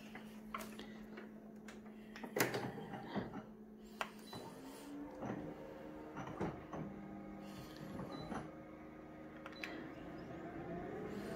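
A photocopier set to enlarge a Japanese travel brochure 300% runs through a copy, soft whirring and mechanical clicks, ticks and clunks recurring at close range but fairly quiet.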